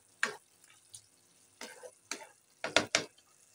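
A spoon scrapes and stirs spicy sautéed tomatoes in a hot pan, giving several short sizzling, wet scraping bursts in an irregular rhythm, close and fairly loud with no talking.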